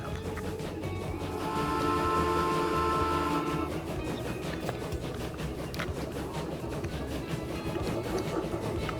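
Mogul steam locomotive running in the rail-building game Transport Fever 2, a steady rhythmic chuffing with a whistle-like tonal stretch early on, fairly loud against continuous mechanical rumble.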